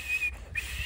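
A whistle sounds a sustained high tone lasting under a second, briefly breaking off midway before resuming, loud and close, with no speech.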